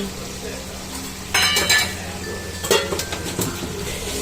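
Finely chopped onions sizzle in a pan for pav bhaji, a steady fry broken by a couple of sharp bursts of spoon stirring and clinks against the pan.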